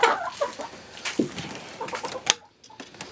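Chickens clucking inside a coop in the morning, several hens giving close, overlapping clucks and short squawks, with one sharp call near the end before a quieter pause.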